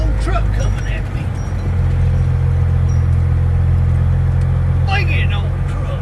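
A big truck rolls past on a street, a heavy low engine rumble that stays steady and close while the road hum continues.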